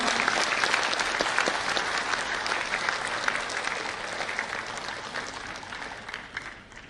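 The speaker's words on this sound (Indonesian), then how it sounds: "Berikan aplaus yang meriah." Audience applause fills an award ceremony during a plaque presentation, sustained steady clapping from a sizeable crowd that stays loud throughout before thinning slightly near the end.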